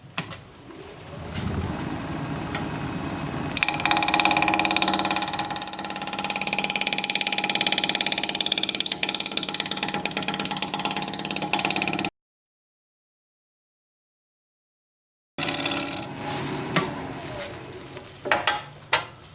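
A wood lathe spins a sycamore blank being turned into a beaded vase at about 1000 RPM, giving a steady, loud mechanical whir with a brief dropout, then resuming near the end with a few sharp knocks.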